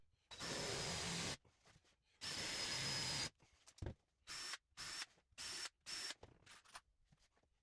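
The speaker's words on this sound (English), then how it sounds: "Pre-drill the holes and screw the connectors in, and flip the bench onto the bench top." A power drill bores pilot holes and drives screws into a wooden bench, with two long whirring runs followed by several short bursts and pauses between them, heard up close with no talking.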